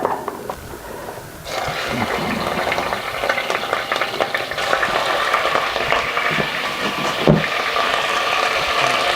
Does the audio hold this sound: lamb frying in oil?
yes